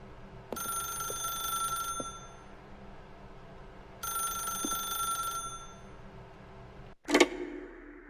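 Inside the video game The Stanley Parable, a telephone rings with two long bright electronic trills separated by a pause, close and clear, then a sharp clattering clunk as the receiver is picked up.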